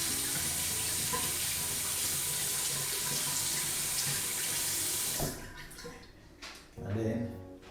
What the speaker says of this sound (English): typically I run my shaving stick under the water again